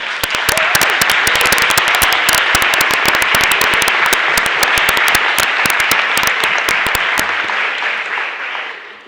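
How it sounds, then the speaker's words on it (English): Youth symposium audience applauding themselves, loud close clapping from many hands with sharp individual claps standing out, sustained for about seven seconds and then fading away. "please give yourself a big round of applause"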